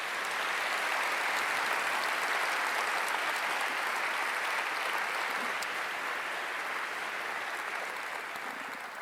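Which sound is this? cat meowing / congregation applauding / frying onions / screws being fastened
congregation applauding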